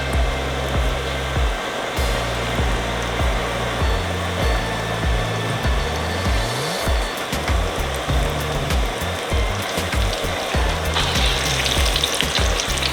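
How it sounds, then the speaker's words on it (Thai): Cheese frying in moderately hot oil gives a loud, dense, continuous sizzle and crackle up close, with a steady hiss throughout and no talking. "น้ำมันไม่ต้องร้อนมากนะ ทอดหมดไปเลย"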